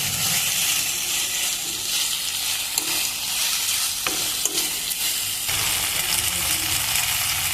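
Masala pasta made with homemade wheat pasta sizzling and frying in a pan while being stirred, a steady close hiss broken by a few scraping clinks of the spoon.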